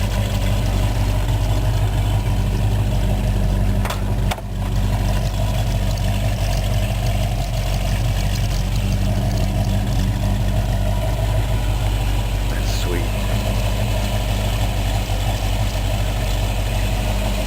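A 1969 custom Chevy Nova sits idling outdoors, giving a steady, even low engine hum throughout with one brief dip partway through and no one speaking.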